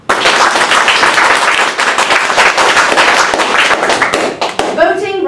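A loud, dense burst of audience clapping at a live event, hands beating fast and close for about four seconds before cutting off sharply, followed by a short bit of voice.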